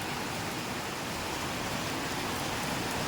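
Rain falling on hot, sun-baked ground and road, a dense steady hiss of drops close by, continuous and fairly loud with no voices.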